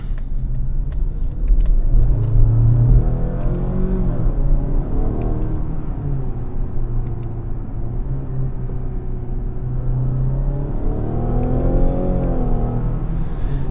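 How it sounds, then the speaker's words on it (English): Mazda CX-60 e-Skyactiv PHEV 327 hp SUV accelerating from inside the cabin, a steady low engine drone boosted by synthesized active sound through the speakers, with rising and falling engine tones over road rumble and no talk. "it has a bit of active sound, which is of course played by the speakers to give you the notice of the engine"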